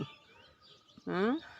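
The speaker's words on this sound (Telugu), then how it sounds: "చిన్నగా ఆ పక్షులు కిలకిలా రావాలు" Small birds chirp faintly in the early morning on a rooftop garden, thin distant calls set in quiet air, followed by a brief close voice.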